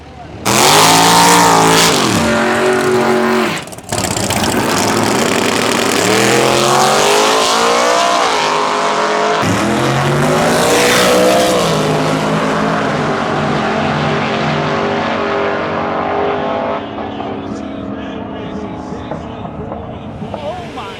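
A big-block Chevy Nova making a drag-racing pass at the No Mercy 15 event: a loud, close engine roar at launch, brief breaks at the gear shifts, then a sustained howl that fades slightly as the car pulls away.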